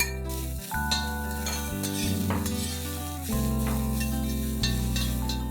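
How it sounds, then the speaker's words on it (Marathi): Long-sliced medium onions fry in a kadhai, browning for a Varhadi chicken curry, with a steady sizzle running under prominent background music and a few soft stirring knocks. "आता ह्याच कढाईमध्ये 2 मीडियम साईजचे कांदे लांबट चिरलेले ब्राऊन होईपर्यंत चांगले भाजून घेणार आहे."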